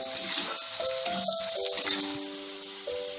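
Onions frying and being stirred in a pan while cooking paneer masala, a steady sizzling hiss with light scraping and clinks, under background music.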